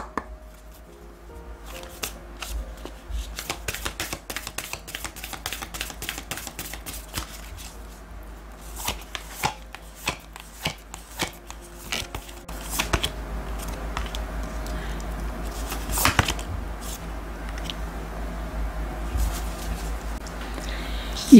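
Oracle cards are shuffled in bursts of crisp, rapid flicking and riffling, close by, then a steady softer sliding of cards with an occasional sharp snap.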